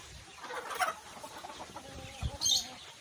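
Kadaknath black chickens on a farm give scattered, fairly quiet clucks, and a louder, sharper call rings out near the end.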